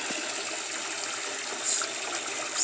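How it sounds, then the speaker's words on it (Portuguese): Water circulates steadily in a tilapia tank with an oxygenation system, giving a continuous rushing, splashing wash at an even level throughout. "Água circulando."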